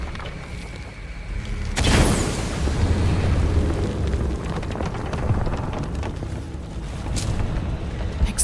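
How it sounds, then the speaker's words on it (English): A gas explosion in a video game, used to shift a pendulum, erupts suddenly into a loud, close boom, then rumbles on with a long roaring, debris-filled tail that slowly fades, with another sharp burst near the end. "Exploding that gas might move the pendulum."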